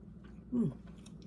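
A single close, quiet bite and chew of banana pecan chocolate chip bread gives a soft, brief crunch in an otherwise hushed moment.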